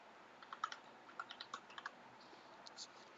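Typing a command on a computer keyboard during a software demo: a short burst of light, quick key clicks with irregular rhythm, close and faint against quiet room tone, with no talk.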